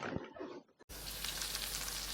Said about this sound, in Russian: Видите, как они шкварчат на сковородке.